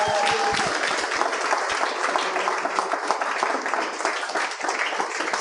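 A podcast studio audience breaks into dense, sustained applause welcoming guests, loud and steady, with a few stray voices under the clapping and no speech over it.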